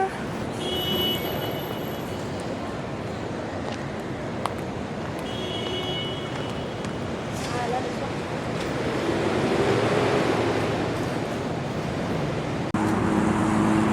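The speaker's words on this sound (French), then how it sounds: "Et là, on arrive au bord de l'eau." Broad steady wash of waves and distant road traffic on a Singapore waterfront, continuous and moderately loud, with faint voices mixed in.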